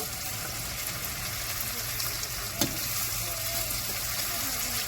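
Hot boiled kidney beans (rajma) poured through a kitchen sieve, a steady broadband watery hiss and splash running throughout at close range, with one brief clink near the middle.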